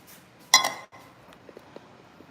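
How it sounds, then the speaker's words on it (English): Spoon stirring a cheesy oven-baked BBQ chicken dish in a pan, with one loud scraping clatter followed by soft, scattered clinks and light taps, close by and quiet otherwise. "stir this up"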